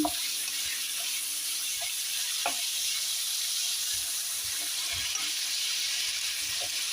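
Browned onions are stirred in a frying pan over a steady, fairly loud sizzle, with occasional soft scrapes and knocks of the spatula against the pan.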